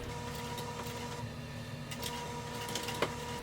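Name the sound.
sewing machine stitching piping on a bag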